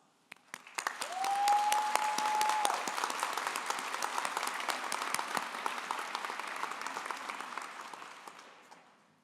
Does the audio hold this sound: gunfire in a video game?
no